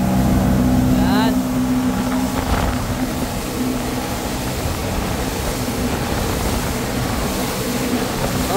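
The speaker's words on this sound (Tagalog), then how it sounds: "Kondisyon na makina." A motorboat engine drones steadily on a fishing trip along Kawa Kawa Bay, a loud, close and continuous hum with water rush, while people talk over it.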